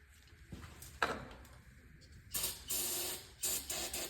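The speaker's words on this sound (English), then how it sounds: "I'm gonna hit this thing with some brake clean." Brake cleaner sprays from an aerosol can onto a 1958 Plymouth engine in short hissing bursts, a brief spurt early on and then longer, louder sprays toward the end, with faint clicks and knocks between them.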